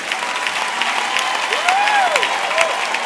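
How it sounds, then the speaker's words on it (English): A church congregation claps hands together in a sustained, dense wash of applause at a steady loud level, with a rising and falling vocal whoop heard over it. "Then you make sure you be clapping your hands"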